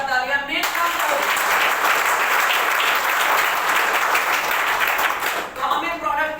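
A large audience at a business seminar breaks into loud, sustained applause, a thick roar of clapping that starts abruptly, holds strong for several seconds, then tapers off near the end.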